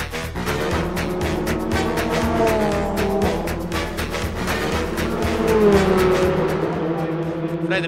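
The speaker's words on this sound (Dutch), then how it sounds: "Ja, Formule 3, bijna Formule 1. Dat gaat wel ontzettend hard." A Formula 3 race car screams past at speed at a racing day, its high-revving engine loud and near, with pitch rising and falling through gear changes over continuous track noise.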